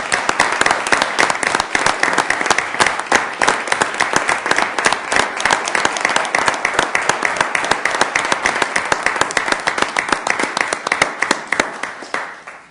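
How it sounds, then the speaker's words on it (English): Sustained applause in a city council chamber in Sioux Falls, dense rhythmic clapping from many hands, loud and even for the whole stretch before fading slightly at the end. "we're going to give you one last round of applause"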